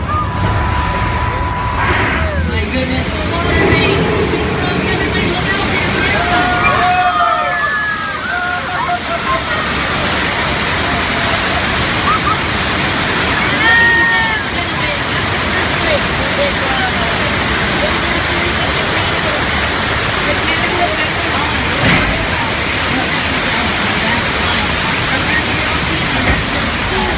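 Rushing water from a staged burst water main on a theme-park studio tour, a steady broadband roar that fills the whole stretch, with people's voices and exclamations heard over it.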